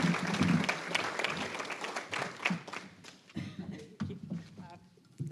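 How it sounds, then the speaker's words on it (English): An audience at a Tiger Bay Club luncheon applauds with steady, dense clapping that fades in the last second. "Please give her a round of applause as she comes forward."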